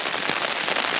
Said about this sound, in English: It's been raining for the last hour.